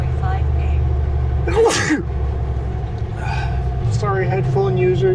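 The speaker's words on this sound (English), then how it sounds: "Sneeze." A single sharp sneeze bursts out about midway, set against a steady low truck-cab rumble, with faint talking before and after.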